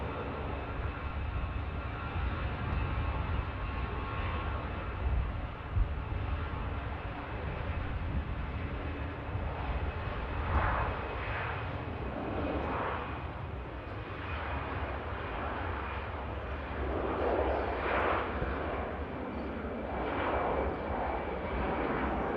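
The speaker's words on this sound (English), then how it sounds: "EasyJet on the departure roll over on the south side" An EasyJet airliner roars down the south-side runway on its departure roll at Manchester Airport, a broad, steady jet rumble heard from a distance with swelling surges of engine noise throughout.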